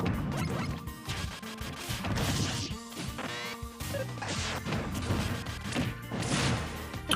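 Forward smash attacks in Super Smash Bros. Ultimate, Mega Man against Dark Samus, land as loud repeated crashing hits and thwacks over busy game music and effects.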